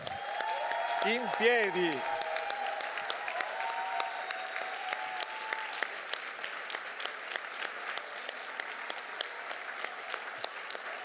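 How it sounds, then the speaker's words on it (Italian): Audience at the Venice Biennale Arte Golden Lion award ceremony applauds steadily throughout, a dense clapping wash beneath a voice speaking over the start. "Continuate nell'applauso"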